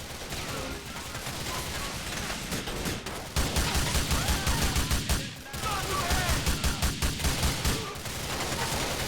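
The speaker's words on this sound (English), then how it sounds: "We're shooting as best as we can back here already." Gunfire in Grand Theft Auto IV during a shootout, with rapid bursts of automatic shots fired close by in two long stretches, loud and dense, with a brief pause between them.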